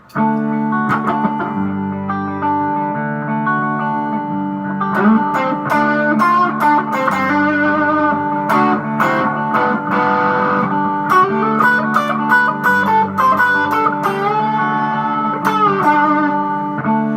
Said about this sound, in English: I'll do it with distortion so you can kind of hear it.